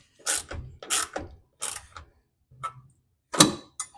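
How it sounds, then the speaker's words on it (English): A hand ratchet tightens bolts on a front bumper bracket of a 1968 VW Beetle, giving five short bursts of clicking spaced about half a second to a second apart, close and moderately loud. "Now I'm going to stick the bracket in and we'll bolt it on."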